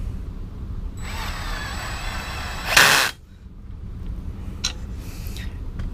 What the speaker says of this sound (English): I'll put my electric drill motor in